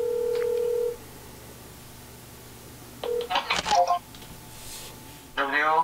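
A telephone call being dialed: a steady tone breaks off into quiet, then short clusters of keypad beeps follow, with a voice briefly heard near the end.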